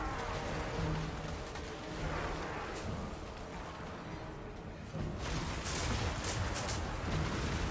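Ranged units fire on infantry in a Total War Warhammer battle, producing a steady din of distant gunfire and artillery booms. Crackling volleys and thumps repeat irregularly over a constant battlefield roar, with a louder burst near the end.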